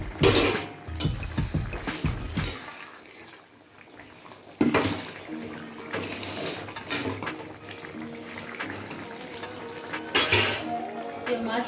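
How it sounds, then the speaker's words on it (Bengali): A lid comes off a cooking pan and fried silver carp goes into a pot of spicy curry with potatoes and eggplant, giving close metallic clanks and utensil scrapes with sizzling in between. "এবার ঢাকাটা খুলে মাছগুলো দিয়ে দেবো।"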